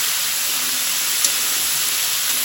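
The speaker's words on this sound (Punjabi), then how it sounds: "ਗਾਜਰਾਂ ਨੂੰ ਫਰਾਈ ਕਰਦੇ ਸਮੇਂ ਆਪਾਂ ਗੈਸ ਮੀਡੀਅਮ ਰੱਖਿਆ ਹੋਇਆ" Carrots fry in oil in a pan over a medium gas flame while a carrot pickle is prepared, giving a steady, even sizzling hiss that carries on without a break and without any voices.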